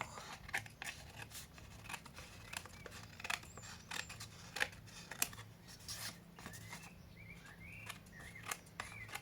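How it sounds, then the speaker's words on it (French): Scissors trimming the edges of a paper wedding congratulations card, a quick series of close, crisp snips at an irregular rhythm over a quiet room, with no talk. "Je viens recouper les bords."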